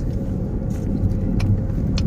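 Steady low rumble of a car driving after heavy rain, a continuous close road and engine noise with no talking.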